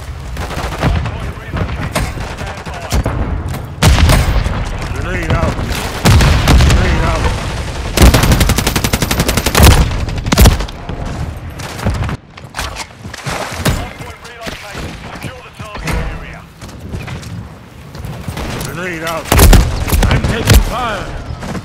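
A grenade goes off amid rapid bursts of automatic gunfire in Call of Duty: Modern Warfare III, loud and close, with heavy booms and thuds mixed into the chaotic firefight while voices shout over it.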